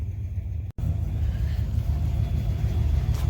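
A junkyard turbo Foxbody Ford Mustang idles steadily nearby with a deep, continuous rumble and a very brief dropout near the start.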